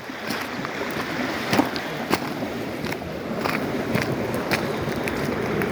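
Water pours from a pipe beside a river flooding the fields, a steady broadband rush that carries on throughout, with a few faint knocks and scuffs on top.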